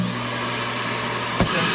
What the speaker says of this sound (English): that's going to totally suck all that up in there